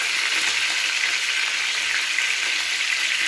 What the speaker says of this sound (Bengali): এবার তেলের মধ্যে কেটে রাখা পটলগুলোকে সমস্ত ঢেলে দিচ্ছি।